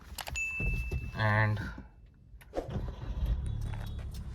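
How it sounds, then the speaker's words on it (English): A Toyota Glanza car being switched on, with a brief whirring start-up tone and hum rising briefly before settling into a low idle, heard close inside the cabin with a faint spoken word. "Now you can switch on your car"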